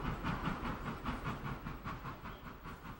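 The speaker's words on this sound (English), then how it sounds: "You've just got to hear a steam engine and hear that whistle." A steam locomotive works with a regular rhythmic chuffing and hissing, a rolling beat of steady puffs at moderate distance, alone with no voices.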